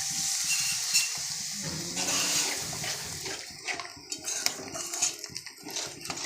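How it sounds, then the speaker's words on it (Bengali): Hot water pours into a pan of pabda fish curry, starting as a continuous splashing pour, then breaking into bubbling, sizzling and scattered clinks of utensils. "আগে থেকে আমি গরম জল করে রেখেছিলাম সেটা দিয়ে দিলাম"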